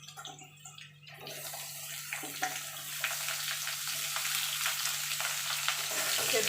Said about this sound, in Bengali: আলু আর পেঁপেটা একটু ভাজা ভাজা করে নেব।